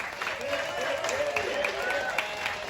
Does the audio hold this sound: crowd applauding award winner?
yes